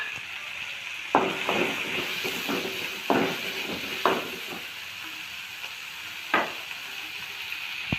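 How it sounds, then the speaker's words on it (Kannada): Green chillies fry in a pan for bitter gourd chutney with a steady close sizzle, broken by several sharp clicks and scrapes as the chillies are stirred. "ಈಗ ಹಸಿಮೆಣ್ಸಿನ್ಕಾಯಿನ ಈ ಥರ ಫ್ರೈ ಮಾಡ್ಕೊಳ್ಳೋಣ ಸ್ವಲ್ಪ."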